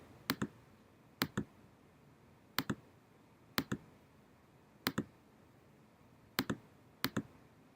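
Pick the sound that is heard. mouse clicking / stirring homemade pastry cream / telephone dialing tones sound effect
mouse clicking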